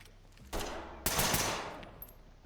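Gunfire in the tactical shooter game Ready or Not: two sharp loud bursts about half a second apart, the second longer with a trailing echo, and no talk.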